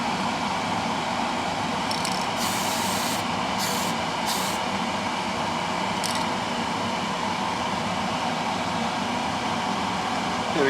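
Parts of a Tamiya 1/6 Yamaha YZ250 motocross model are spray painted in a spray booth. A steady fan roar runs throughout, and a few short hissing bursts of spray come early on.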